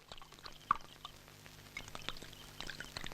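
A drink is poured into a glass at a home party, a quiet trickling stream broken by small drips and splashes. The pour stays close and faint.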